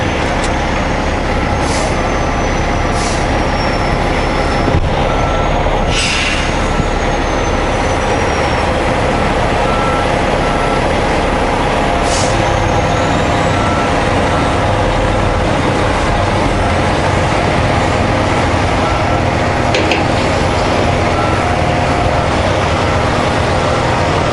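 Trucks idle and move near a loading area on a Kamloops–Kelowna haul, with a loud, steady diesel rumble and brief hissing air-brake releases over about 24 seconds. No clear reversing beeps stand out.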